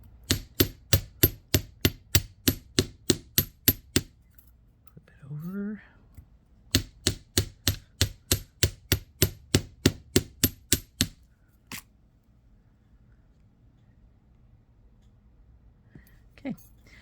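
A metal pendant being textured with a hammer, two fast runs of evenly spaced sharp strikes separated by a brief pause with a short scrape, then a couple of isolated taps, close and clear.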